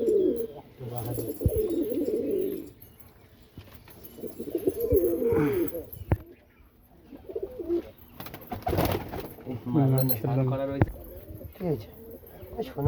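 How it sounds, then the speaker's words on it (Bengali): A Rajshahi pigeon coos in repeated low, throaty rolling phrases, fairly close, while people talk over and between the calls. "ওই যে আমার বাহাদুর, ওই যে ডাকছে বাহাদুর"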